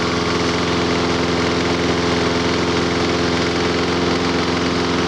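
A lawn mower engine idles continuously at a steady, throbbing drone, loud and close with no change in pitch.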